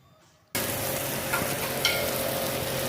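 Tomato ghugni masala sizzles in a pan as it is stirred, starting abruptly after a short quiet moment and continuing as a steady close hiss with a few scraping spikes.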